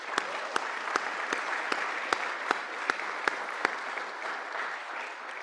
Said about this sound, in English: they definitely deserve a round of applause